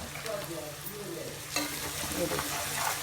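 Beef and cauliflower masala fries in a pot with a continuous moist sizzle and occasional stirring scrapes, growing slightly louder partway through.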